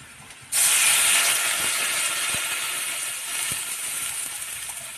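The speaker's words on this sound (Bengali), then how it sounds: "এই যে ভাজে নিয়েছি এখন জল দেবো" Water poured into a hot pan of fried wild greens bursts into a loud, sudden sizzle that stays strong and slowly fades as it boils, with a few faint clicks.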